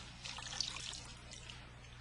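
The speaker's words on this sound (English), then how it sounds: "300 milliliters of water have been added to a beaker" Water poured into a beaker for a sandstone absorption demonstration, a faint, steady trickle and splash lasting about two seconds over a low background hum.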